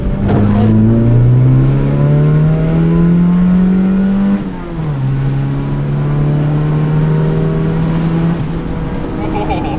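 A Mazda 121 with a swapped engine, no factory sound insulation, revs loudly while driving, pitch climbing steadily through a gear, dipping at a shift around the middle, then rising again with a close, echoing cabin drone.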